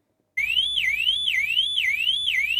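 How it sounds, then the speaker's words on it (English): A car alarm goes off in Winchester, starting abruptly after a moment of silence and wailing in a loud, repeating up-and-down sweep, close and alone. "The sound of car alarms going off is becoming all too familiar to the people of Winchester"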